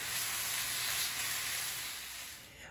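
Meat for tacos de barbacoa browning in a hot pan, a steady close-up sizzle with bright crackling hiss that gently softens as it continues.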